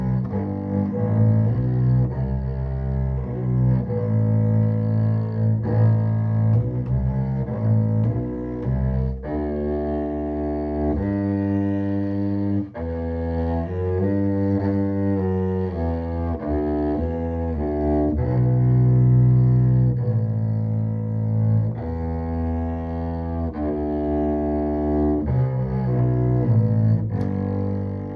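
A bass instrument plays a steady passage of short repeated notes in a driving rhythm, alone and close, with no talking.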